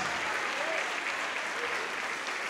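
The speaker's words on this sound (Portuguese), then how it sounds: "vamos aplaudir mais, igreja" Church congregation clapping in a continuous dense wash of applause, even and moderately distant, with faint voices mixed underneath.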